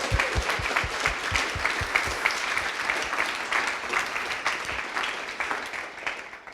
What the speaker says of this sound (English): please give a round of applause to our 18 amazing coders